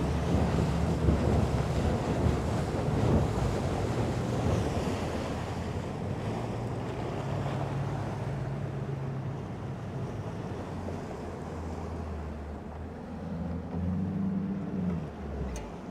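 Strong wind buffets the microphone outdoors, with a continuous low rumble and gusts that swell and ease, rising again near the end, and no talking.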